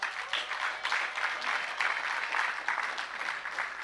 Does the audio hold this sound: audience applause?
yes